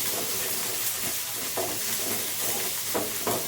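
Onions fry with ginger-garlic paste in a pan, a steady close sizzle broken by several scraping stirs, with no talking.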